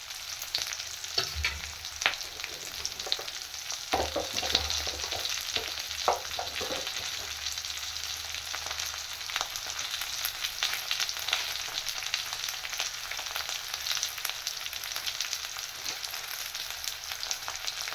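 Green chillies sautéing in oil for a tangy, spicy chilli gravy, a constant close sizzle with scattered stirring clatters and spoon knocks early on, then a long even hiss with no voices.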